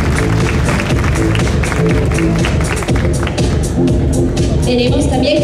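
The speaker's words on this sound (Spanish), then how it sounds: "Un aplauso fuerte." Loud audience applause and crowd noise at a Miss Teen Ancash 2016 beauty pageant, dense clapping under music and voices filling the whole stretch without a break.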